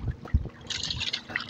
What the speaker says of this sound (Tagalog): Malakas po ang alon ngayon ah.